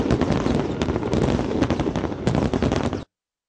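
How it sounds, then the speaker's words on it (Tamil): A fireworks display of roughly twenty minutes at a public event crackles and pops in rapid bursts, loud and continuous, with a few stronger blasts before cutting off abruptly. "சுமார் 20 நிமிடம் நடைபெற்ற வான வேடிக்கைகள் பார்வையாளர்களை பிரமிப்பில் ஆழ்த்தியது."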